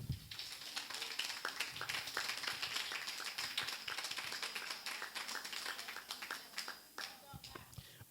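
Church congregation clapping for the pastor, dense scattered hand claps carrying on steadily under a lively room with voices mixed in, thinning toward the end.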